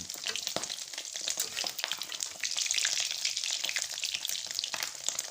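Egg-dipped khanom khiang, a firm Thai sticky rice cake, frying in hot oil with a dense, steady crackling sizzle that holds loud and close throughout, no voices.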